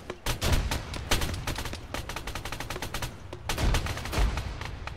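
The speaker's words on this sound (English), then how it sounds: "Now the 40 Mike barrage begins" A 40 mm grenade barrage in Arma 3 comes as dense rapid cracks and thumps, overlapping explosions and gunfire rattling continuously, fairly loud and without speech.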